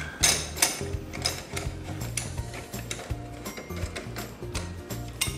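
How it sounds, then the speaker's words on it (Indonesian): A torque wrench tightens the rear wheel nut on a Yamaha NMAX scooter, giving a run of quick metallic ratchet clicks in short bursts, close and fairly quiet. "Kunci torsi sudah, kunci torsi kita kencangkan dikit."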